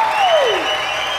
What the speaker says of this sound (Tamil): இவ்வளவு பேர் கைத்தட்டின பார்த்தா